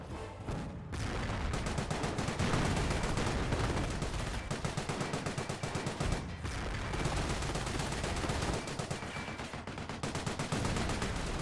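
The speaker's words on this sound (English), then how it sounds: "Captured Vickers, firing away from the garrison, getting the commando Vickers." A captured Vickers machine gun fires in the Company of Heroes video game, with long sustained bursts of rapid gunfire broken by short pauses, loud and continuous, mixed with other battle noise.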